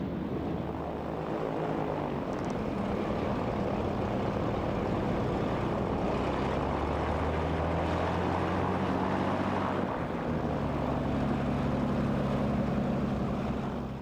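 De Havilland Dove piston twin taxiing out at an air show, a steady close propeller and engine drone with shifting low tones, continuous and loud with no talk.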